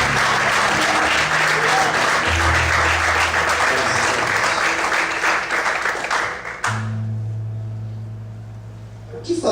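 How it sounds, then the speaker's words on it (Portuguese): A church congregation claps together in a dense, loud, sustained burst that fades into quieter scattered clapping as low organ or keyboard tones swell underneath. "Você pode aplaudir o Senhor nessa noite?"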